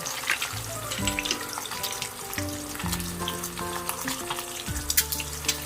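Eggs fry in a pan with a continuous close crackling sizzle, fairly quiet, while background music plays underneath.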